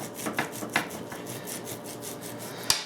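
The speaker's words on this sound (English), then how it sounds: "first thing you're going to want to do is remove the excess fat on the meat here" A knife scrapes and saws along raw beef while trimming the fat for jerky, making a soft, rasping rub with a few sharper clicks against the board, close and steady throughout.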